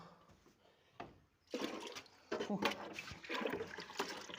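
A liquid plant solution of humate and Trichopsin for soaking seedling roots is stirred and poured, starting with faint stirring before louder sloshing and splashing pours follow nearby.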